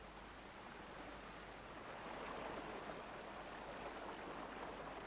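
Fast-flowing stream water rushes steadily past stones, a dense, constant broadband wash with no breaks, heard alone without any voices.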